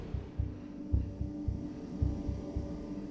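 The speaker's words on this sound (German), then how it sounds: "Hätte auch den Herzschlag." Slow, regular heartbeat in the video game Inside, a steady series of low, muffled thumps about twice a second over a faint hum, with no other sounds.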